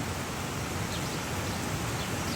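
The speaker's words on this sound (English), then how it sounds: "It's raining pretty hard, so I'll try to talk louder and hope it's not too distorted" Dense, steady hiss of heavy rain falling during a thunderstorm, broadband and unbroken from start to finish, with no voices.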